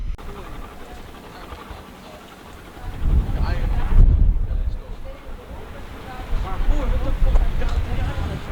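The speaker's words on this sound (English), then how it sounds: "it is very windy, as you can imagine, considering we're on the top of a massive hill" Strong wind on top of a high hill buffets the microphone with a heavy, rumbling roar that swells and gusts, loud and continuous with no voices.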